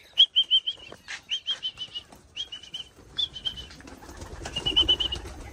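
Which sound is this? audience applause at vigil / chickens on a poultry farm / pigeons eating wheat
pigeons eating wheat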